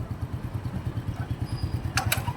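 Motorcycle engine running steadily through a gear change during a women's riding training session, a close, rhythmic low throb with a few brief higher clicks near the end.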